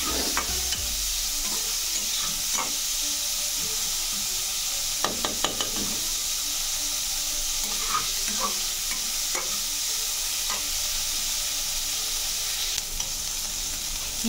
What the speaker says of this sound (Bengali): পেঁয়াজটা হালকা নাড়াচাড়া করে কালারটা চেঞ্জ হয়ে যাওয়া পর্যন্ত অপেক্ষা করব